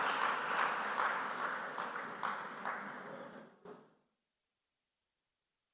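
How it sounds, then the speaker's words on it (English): Audience applause for a school team at a quarter-final quiz competition, a dense crowd clapping that fades out and stops after about four seconds, followed by silence. "Please give them a round of applause."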